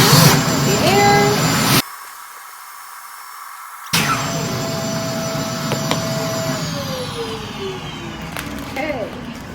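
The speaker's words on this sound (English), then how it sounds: "then suck up the air with the vacuum cleaner" Vacuum cleaner sucking the air out of a storage bag of linens through its valve, a loud steady whirring roar with a brief cut-off in the middle before starting again and continuing.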